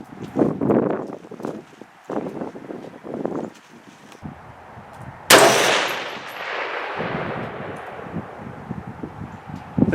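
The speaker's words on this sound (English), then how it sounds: "That may have been a bad shot." A single loud, sharp 6.5 Grendel rifle shot cracks out mid-clip at an outdoor range and rings into a long fading tail, with quieter rustling and footstep-like thumps before and after.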